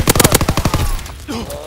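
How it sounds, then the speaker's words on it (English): Anti-aircraft gunfire from Call of Duty WWII sounds as a loud, rapid burst of about a dozen evenly spaced shots. It cuts off into a ringing tail with brief game sounds. "Anti-aircraft bursts commenced."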